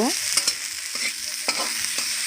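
Spices with turmeric and chili powder being stir-fried in a pan: a soft continuous sizzle broken by several scraping strokes of a spatula at regular intervals, close and moderately quiet.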